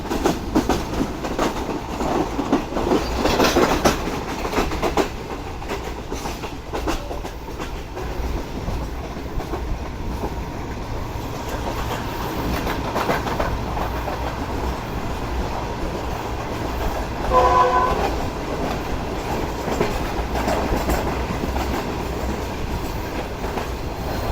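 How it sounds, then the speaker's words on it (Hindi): Pakistani express train overtaking at Jalal Mari railway station, with a loud continuous rumble of passing railcars and rhythmic clickety-clack of wheels, plus a brief squeal. "तो चलें आपको मज़ेदार सा ओवरटेक एंजॉय करवाते हैं जलाल मरी रेलवे स्टेशन पर।"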